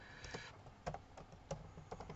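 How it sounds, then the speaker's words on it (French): Computer keyboard typing while entering notes into music notation software, a short run of clicky keystrokes with irregular taps and a few louder presses, close and alone. "Mon clavier, c'est ceci."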